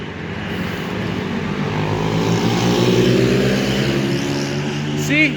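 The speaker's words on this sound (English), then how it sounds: "See those guys passing by with their loud motorcycles?" Loud motorcycles rumble past nearby in a steady, sustained engine drone that swells toward the middle and ends with a brief higher-pitched whine.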